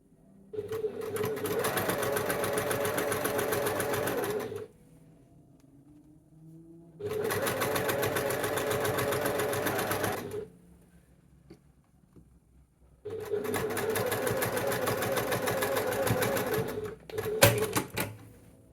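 A sewing machine stitches a Liberty of London blouse in three sustained whirring runs of rapid needle clatter, separated by quiet pauses and ending with a short final burst, heard close up.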